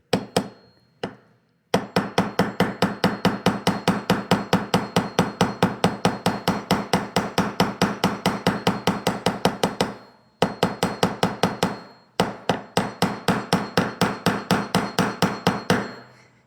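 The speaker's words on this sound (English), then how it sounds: "I'm going to hammer the arc" Rapid, steady hammer strikes on a 16 gauge metal wire loop, close and loud, repeating in long runs of evenly spaced taps with a few short pauses between bursts.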